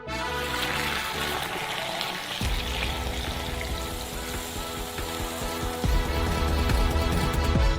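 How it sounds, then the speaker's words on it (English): Coffee pours steadily into a large glass, a continuous close trickle and splash with faint kitchen clatter, and no voices. "remove it from the stove and pour it into the large glass"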